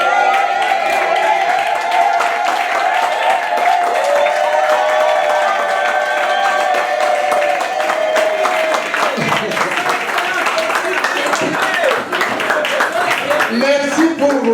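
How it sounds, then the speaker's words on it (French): Guests at an 80th birthday celebration in Matadi applaud and cheer for a senator, a sustained loud wave of clapping mixed with crowd voices and a steady tone running underneath. "Merci pour vos applaudissements"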